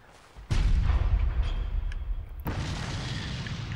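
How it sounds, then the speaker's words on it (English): In a video game, a cannon fires with a sudden deep boom, its rumble trailing off before a second loud blast follows about two seconds later. "And you can shoot this cannon."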